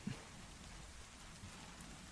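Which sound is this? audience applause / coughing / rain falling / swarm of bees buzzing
rain falling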